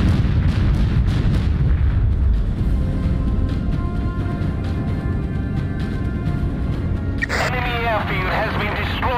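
Rapid artillery barrage from a naval battle game set in the Pacific, with dense overlapping booms and blasts rumbling continuously under battle chatter and voices, then sharper bursts near the end.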